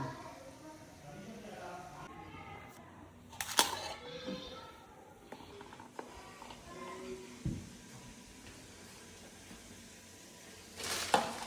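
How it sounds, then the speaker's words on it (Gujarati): Cut pieces of dal bati frying in hot oil give a low, steady sizzle beneath scattered clicks and clatter of kitchen handling, with a few sharp knocks; voices can be heard faintly in the background. "બાટો કાપીને તળી કાઢવાનો છે."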